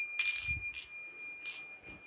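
A bell rings with a steady, bright high tone that sustains across the whole moment, broken by a few short clattering bursts as it is struck again. It is moderately loud and close, with no talking over it.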